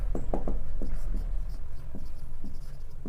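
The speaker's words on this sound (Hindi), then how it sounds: "मैं इसको लिख देता हूँ यहाँ पे" Chalk or marker writing on a board during a maths lecture: soft, scratchy strokes and taps in short bursts, faint under a steady background hum with no clear talk over them.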